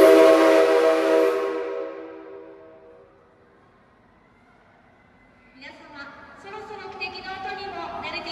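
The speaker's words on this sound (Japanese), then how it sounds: "汽笛をお願いします。" A C57 steam locomotive at the railway museum in Saitama sounds one loud, long whistle blast that fades away, followed by a quiet stretch and then a voice speaking.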